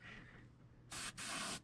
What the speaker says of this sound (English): I'll spray this rag. I'll spray whatever I want to spray